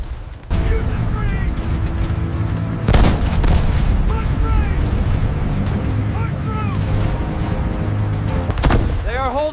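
Gunfire and booming blasts from a WW2 battle scene around flame-thrower Sherman tanks at Iwo Jima, loud repeated bursts under shouting voices and continuous battle noise.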